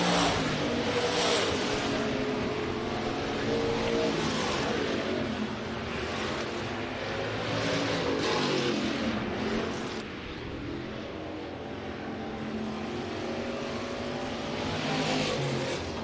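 Race cars circle Rapid Speedway in a heat race, engines droning continuously with rising and falling passes, steady and loud from start to finish with no voices.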